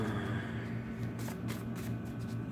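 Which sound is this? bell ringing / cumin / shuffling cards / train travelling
shuffling cards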